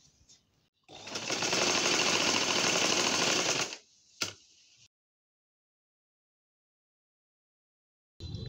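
A sewing machine runs in one steady burst of about three seconds as it stitches the sleeve of a round baby frock, then clicks briefly and falls silent, picking up again near the end.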